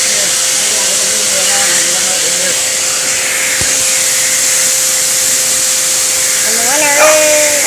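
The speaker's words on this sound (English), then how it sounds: "Go after him with the vacuum." A vacuum cleaner runs with a steady, loud whine throughout, while a pet scooter attacks it; a brief thump occurs midway and the pitch wavers near the end.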